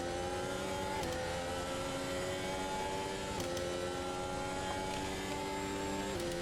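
Formula 1 race car engines at the Brazil circuit in an F1 racing game, a loud high-pitched whine rising steadily through the gears, with brief drops at each upshift repeating every couple of seconds.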